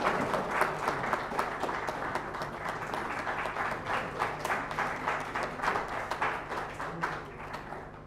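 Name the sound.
applause for Professor Tiwari at inauguration ceremony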